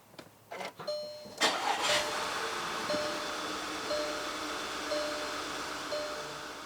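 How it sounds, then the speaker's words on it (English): A Volkswagen Tiguan engine cranks with a few quick clicks, catches and settles into a steady idle close by after a spark plug change, with a faint chime tone repeating over the hum. "test your work to see if the car starts"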